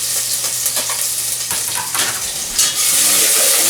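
Chopped onion sizzles in butter in a pan on the stove, a steady close frying hiss with scraping, clattering stirs of a utensil against the pan over nearly four seconds, no talk.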